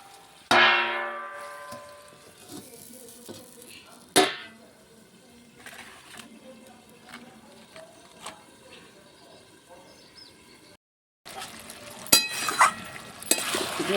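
Chicken with vegetables being sautéed in a covered pan, with sharp metallic clinks of lid and spatula, intermittent stirring scrapes and a soft background sizzle, broken by a brief pause.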